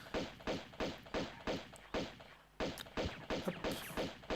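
Gunshots in Tomb Raider 2 as an enemy is shot, a regular series of punchy thudding shots about twice per second, close and loud, with a brief pause midway and no talking.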